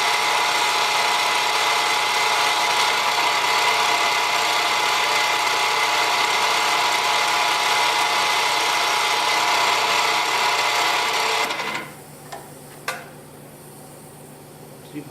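A power tool trims epoxied pen tubes square on stabilized buckeye burl wood blanks, a loud steady whirring grind that runs continuously before spinning down and stopping, followed by a few faint knocks.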